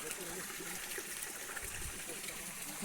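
Pure water flowing in an Amazon rainforest stream along a forest track, a steady trickling wash that runs evenly through the whole stretch without a break.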